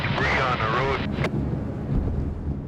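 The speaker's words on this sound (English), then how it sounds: "gusts up to 40 miles an hour howl across the region" Strong storm wind gusts of up to 40 miles an hour roar across the Fraser Valley, a steady broadband rush that follows a brief stretch of voice at the start.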